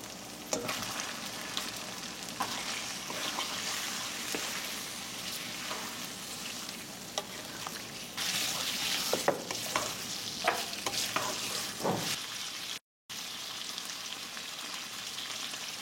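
A masala mixture for a Bengali mutton liver dish fries in a pan, sizzling steadily and close by while a spatula stirs and scrapes now and then.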